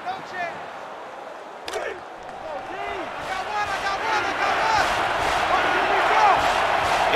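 A college football stadium crowd in an NCAA Football video game, Rutgers against Ohio State, swelling from a murmur to a sustained roar, with cheers and whistles rising and a commentator talking over it.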